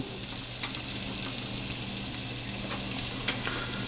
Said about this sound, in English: as the garlic and onions are cooking, we're going to stir them around just a bit.